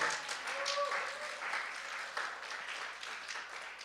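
Church congregation applause, a steady wash of clapping from many hands, moderately loud and sustained throughout without a break.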